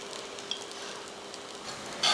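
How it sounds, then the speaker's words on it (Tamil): Dosa batter sizzles steadily on a hot, oiled stone griddle, a soft continuous hiss that swells into a louder crackling burst near the end. "இப்போ நம்ம தோசை ஊற்றிடலாம். கல் நல்லா காஞ்சிருக்கு. தோசை நல்லா வந்துடும். நல்லா மேலே எண்ணெயை ஊற்றுவோம்."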